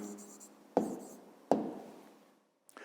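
Handwriting an answer to a fifth-grade maths exercise, with quiet close scratching strokes and two sharper taps of the pen on paper, otherwise near silence.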